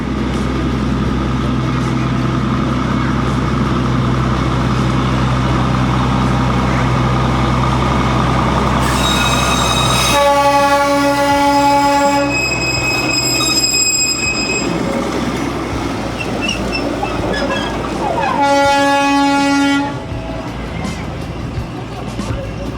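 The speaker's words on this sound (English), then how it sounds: "I'm waiting for the train to come so that I can record it." Darjeeling toy train passing close at night-time with loud rumbling and rattling wheels under a steady engine drone, and several sustained high horn blasts partway through.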